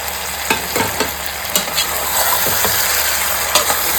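Spice paste frying for mutton in a hot pan, a steady close sizzle broken by repeated scraping stir strokes of a spoon against the pan, with no talking.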